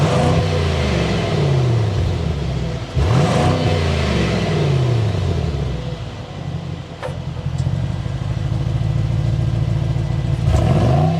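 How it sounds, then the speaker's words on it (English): Mercedes-AMG GLS 63 SUV with a bi-turbo V8, exhaust heard up close as the engine revs in repeated rising and falling sweeps, loud and alone with no talk. "start it up so you can hear that exhaust note."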